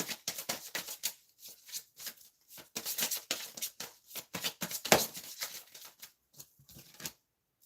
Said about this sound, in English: let me shuffle this again